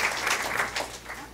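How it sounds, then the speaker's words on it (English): Audience applause at a school district board meeting honoring an elementary school staff member, a steady dense wash of clapping from a room of people, moderately loud and fairly even over its short length. "let's give another big round of applause to Ms. Hurtado"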